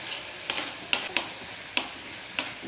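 Sautéing in a pan: a steady broadband sizzle with several sharp clicks and pops of food shifting against the pan at irregular intervals, fairly close and alone.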